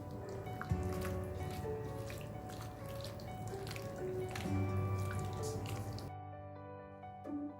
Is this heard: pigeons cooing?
no